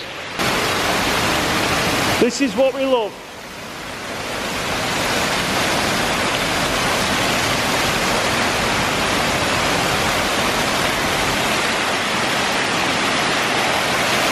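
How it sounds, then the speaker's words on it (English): Water surges through a storm drain in a steady, loud, broadband roar that continues for the whole stretch, with a brief spoken remark near the start. "Just have a look at the storm drain here."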